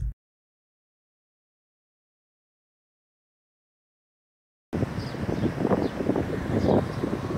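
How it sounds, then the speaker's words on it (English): Gusty wind buffets the microphone in the last few seconds, a steady rumbling roar after a long stretch of near silence. "It's a lovely sunny day and a little bit windy as well."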